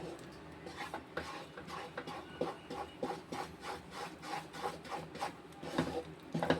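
Boost barfi mixture with ghee being stirred in a pan, a quiet repeated rubbing and scraping of spoon against the pan in a steady rhythm, close and alone.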